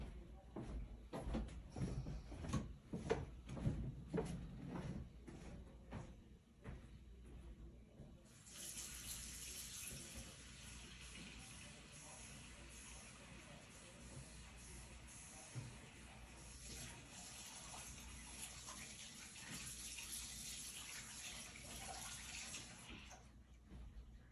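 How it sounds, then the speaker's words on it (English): Warm tap water runs steadily into a sink for about sixteen seconds while a silver coin is rinsed after milk stain removal. A softer stretch of handling noises comes before the flow. "I rinsed it, warm water"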